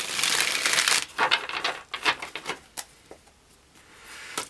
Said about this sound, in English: Couple more shuffles.